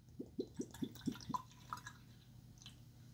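Bourbon is poured into a tasting glass up to its pour line: a quiet run of about half a dozen evenly spaced glugs and drips, then a fading trickle.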